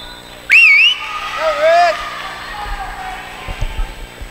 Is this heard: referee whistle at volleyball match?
yes